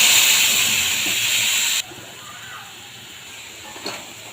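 Cumin seeds and a bay leaf hit hot oil for tempering, a loud, steady hiss that drops sharply partway through to a quieter simmering sizzle, with a small pop near the end.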